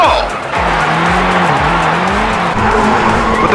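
Hyundai RN24 electric rally car drifting with its rear wheels locked by the e-handbrake, a loud sustained tire squeal and skid with a wavering electric motor whine running close and continuous.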